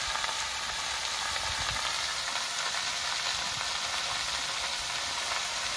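Bottle gourd and chopped green chillies fry in a pan for a lobster-free prawn gourd dish, a steady, dense sizzle with faint crackle throughout and no voices.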